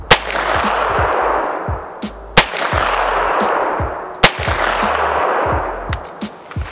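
CZ Scorpion Evo 3 S1 fired at small 5.5-inch targets, sharp loud gunshots spaced a few seconds apart, with metallic pings of hit steel targets between shots.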